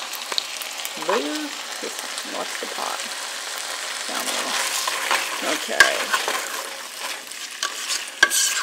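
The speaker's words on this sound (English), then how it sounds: "You can hear it starting to sizzle a little bit again. So we're getting the onions and the green peppers to cook up a little." Onions and green peppers sizzle softly in a pot on low heat for white chicken chili, a steady hiss with occasional stirring clatter while a few people talk nearby.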